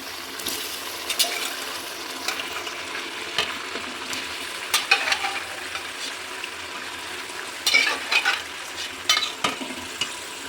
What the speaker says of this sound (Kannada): ಈಗ ಇದಕ್ಕೆ ಬೇಯಿಸಿಟ್ಟಿರೋ ಮಟನ್ನ ಸೇರಿಸೋಣ ಮಟನ್ ಸೇರಿಸ್ತಾ ಇದ್ದೀವಿ